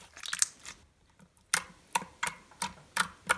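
Soft slime being squeezed, producing a regular series of five or six sharp, close clicking pops spaced about a third of a second apart after a brief pause.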